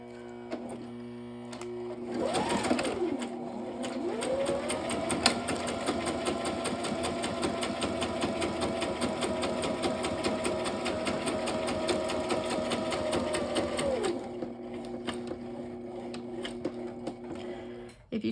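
Sewing machine stitching a paper collage card runs in one long steady motor whir with rapid needle clatter for about twelve seconds, starting after a short rev and stopping near the end, close and loud with no talk.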